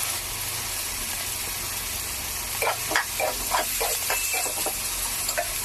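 Chicken fry sizzling in a pan with garam masala and coriander powder, a steady bright hiss of frying throughout, with stirring scrapes and spattering pops growing busier toward the end.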